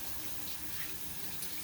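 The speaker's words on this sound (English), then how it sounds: "Actually wash my hands with soapy water." Water runs from a kitchen tap while hands are washed with soapy water, a steady soft rushing hiss without pause.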